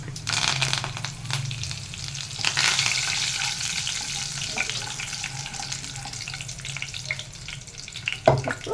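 Curry leaves crackle and hiss in hot oil in a pan for broccoli dal, a steady loud sizzle that fades gradually, with a sharp pop or clatter near the end.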